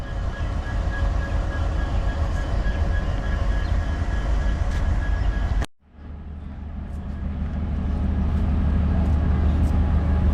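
A train rumbles steadily at Agartala railway station, a loud continuous drone with faint clicks, briefly dropping away midway before building again.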